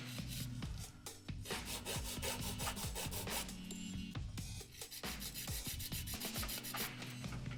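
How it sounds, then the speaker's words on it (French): Coarse 120-grit nail file rubbing back and forth along the sides of acrylic nails, a steady run of close, scratchy strokes with brief pauses between passes. "je vais utiliser d'abord une lime 120 pour faire donc vraiment les côtés, ici, comme on travaille avec de l'acrylique"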